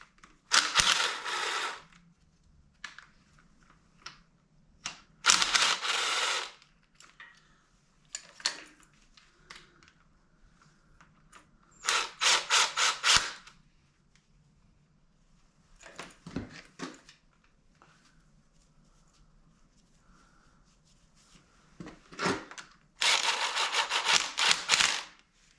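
Ratchet with a 13mm socket backing out intake manifold bolts on a 6.4L 392 Hemi in a 2009 Jeep JK, heard as several separated bursts of rapid clicking, close and fairly loud, with quiet pauses between them.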